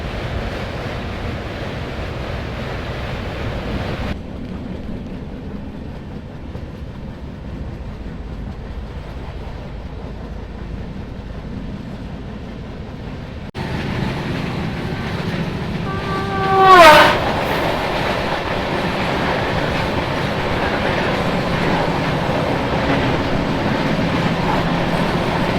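A Jan Shatabdi Express runs on rails between Banaras and Patna, giving a steady loud rumble and rattle of wheels, with a brief horn blast partway through and no talk.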